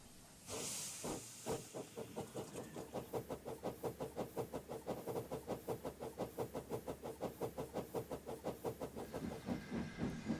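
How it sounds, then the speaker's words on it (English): A steam locomotive chuffing steadily along the rails, with a burst of hissing steam at the start and a fast, even rhythm of puffs throughout. "With that, Reneus was uncoupled from his train and set off to rescue Ivo."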